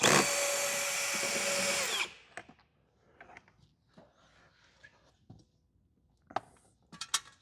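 A power tool whirs loudly for about two seconds as it backs out a 10mm bolt on a 2026 RAM 1500 door, then spins down, followed by quiet clicks and taps of handling.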